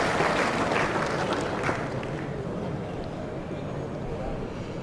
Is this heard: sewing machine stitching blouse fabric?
no